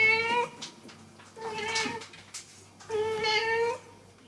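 A cat stuck behind a door meows three times in drawn-out, wavering calls, each about a second long with short pauses between, fairly close and alone.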